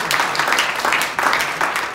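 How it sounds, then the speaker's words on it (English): An audience at a conference talk gives a round of applause for volunteers, a loud, dense burst of clapping throughout with slight swells. "Big round of applause,"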